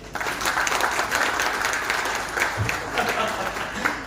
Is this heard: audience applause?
yes